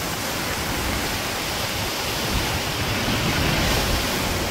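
A flooded Konkan river rushing beneath a bridge during the monsoon makes a loud, unbroken broadband roar of churning water with no pauses.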